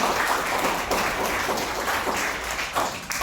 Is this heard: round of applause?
yes